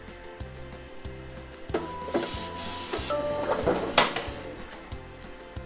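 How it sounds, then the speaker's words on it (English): Magicard Helix retransfer printer printing a sample card: rhythmic mechanical whirring and clunking of rollers and motors, with repeated tonal motor whines and a sharper clack near the end, close and alone without talk. "We can now go to the settings and print a sample card."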